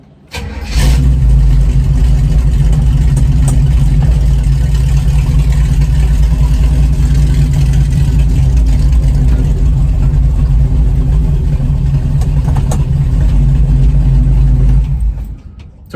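1936 Chevy coupe on a short drive: a loud, steady low engine drone with road rumble, constant from start to finish, then fading briefly at the end, with no talking.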